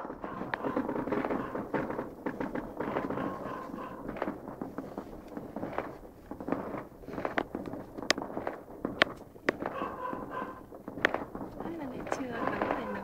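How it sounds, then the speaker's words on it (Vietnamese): New Year fireworks and firecrackers go off outdoors as scattered sharp pops and crackles, some loud and near, heard under ongoing talk from people nearby. "Chúc mừng năm mới, ra xem bắn pháo hoa nào."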